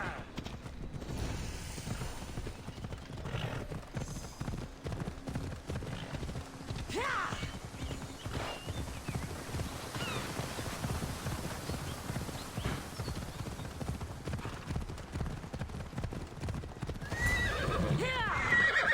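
Horse hooves clip-clop steadily at a gallop through a fantasy field in Assassin's Creed Odyssey, with sharp whinnies breaking in around the middle and near the end over a constant ambient bed.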